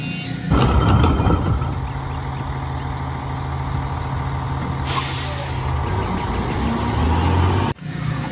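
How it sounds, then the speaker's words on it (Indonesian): A toy garbage truck gives off a steady engine rumble with a loud air-brake-like hiss. It runs continuously for several seconds, ends with a brief cutoff and then resumes. "ini ada truk sampah. Ini truk kebersihan."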